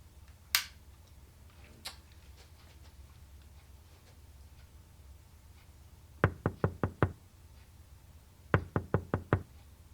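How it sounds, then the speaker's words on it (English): A game character's door is knocked on in two quick bursts of about four sharp, close raps each, following a couple of isolated clicks, with near silence between. "Wait, was that a knock?"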